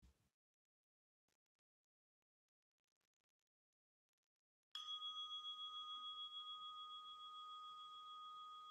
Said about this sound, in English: You'll hear a bell